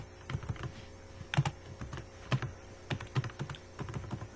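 Someone types C++ code on a computer keyboard in irregular bursts of crisp, close clicks and clacks with short pauses between runs of keystrokes, and no one speaks.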